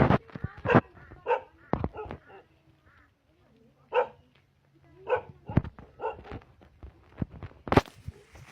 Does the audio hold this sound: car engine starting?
no